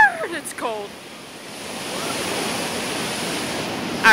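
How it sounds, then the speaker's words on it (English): Ocean surf washes around feet standing in cold water at a beach, a steady broadband wash with a short voice-like sound at the start and end. "I'm putting my burnt feet in the water"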